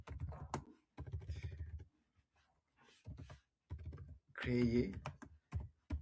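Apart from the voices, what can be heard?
typing a prompt on a computer keyboard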